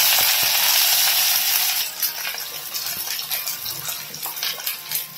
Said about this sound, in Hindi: प्याज अच्छी तरह से मैं तल लूंगी